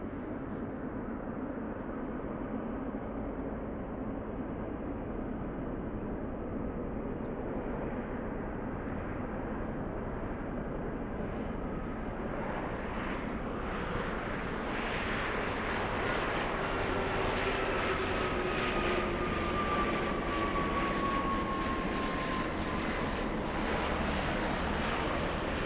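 Jet airliner arriving on runway 33 at Anchorage Ted Stevens International Airport in freezing temperatures, a steady broad engine roar that swells louder and rises in pitch partway through as the aircraft passes closer, heard alone.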